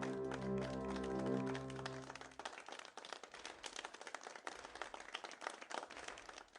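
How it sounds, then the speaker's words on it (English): A Tibetan crowd claps in dense, overlapping bursts to drive out evil spirits, sustained and fairly distant, following a few seconds of low droning voices or horns. "They clap at them like that."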